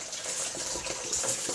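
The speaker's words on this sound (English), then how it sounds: "pour it through the cloth, and so you could use a cheesecloth for this." Shellfish broth poured through a cloth strainer, a continuous close splashing gush of liquid, steady and fairly loud with no talking.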